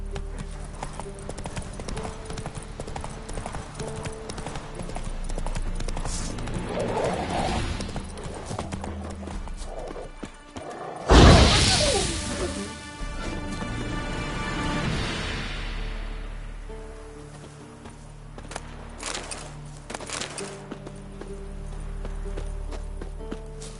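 Horse hooves clip-clopping at a gallop in The Witcher 3, with a rhythmic pounding that swells into a loud burst midway, then keeps going beneath music and ambient game sound.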